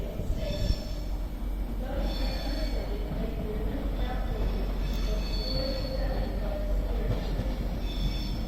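Avanti West Coast train arriving at Crewe station, a low rumble of rolling wagons with repeated high wheel squeals as it slows, moderately close, with faint voices in the background.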